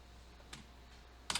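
A Ctrl key on a computer keyboard is pressed, giving a faint single click followed by a quick double clack a moment later in an otherwise quiet room.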